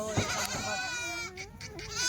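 A Kathiawari goat bleats in a long wavering cry close by, followed by a second shorter bleat amid faint farmyard background.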